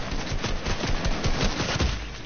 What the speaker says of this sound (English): I'm getting shot at, I can't even get to the ground.